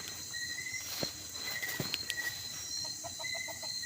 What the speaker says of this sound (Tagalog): Manok. Parang manok.